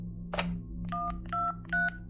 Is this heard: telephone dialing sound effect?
yes